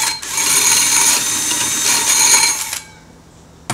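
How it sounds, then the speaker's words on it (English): A power drill bores through the wooden top of a bluebird nest box, a loud continuous bright whine lasting nearly three seconds before cutting off, then near quiet. "Take your drill and drill"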